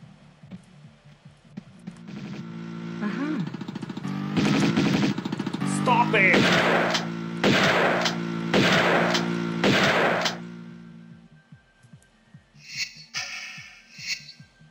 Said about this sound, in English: I use a shotgun.